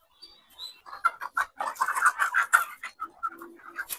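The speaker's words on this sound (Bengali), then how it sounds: "দেশি মুরগির খামার দেখছেন" Desi chickens cluck and murmur in a rooftop farm flock, a close, busy run of short overlapping clucks and calls with a few sharper squawks, no talking.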